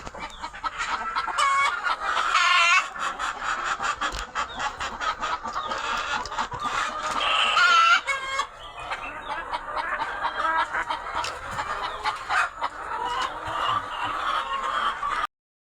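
A large flock of native country chickens on a poultry farm fills the air with dense, overlapping clucks and squawks, loud and close, continuing throughout with occasional sharper calls.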